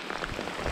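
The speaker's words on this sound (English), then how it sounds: "It's raining. It's finally raining pretty good right now." Steady rain falls outdoors on the Delta during a fishing outing, a soft continuous patter with no talk.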